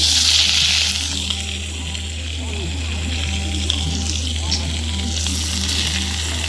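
Washed mutton pieces sizzle steadily in hot ration-shop cooking oil, a loud continuous frying hiss with a low hum beneath it and faint clatter.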